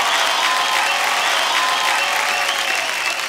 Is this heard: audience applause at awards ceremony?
yes